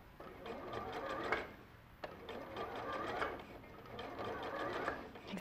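A sewing machine stitches a seam in fabric that is being held taut. The motor runs in steady rapid bursts with brief pauses between them, close and at moderate volume, with no speech over it.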